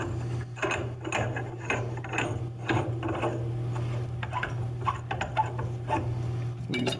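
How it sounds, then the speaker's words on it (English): A pipe wrench works a rod adapter tight onto a cone held in a vise, giving a series of clanking, ratcheting metal knocks and scrapes at an irregular rhythm, close and fairly loud, with no talking. "We'll use the pipe wrench to tighten the rod adapter."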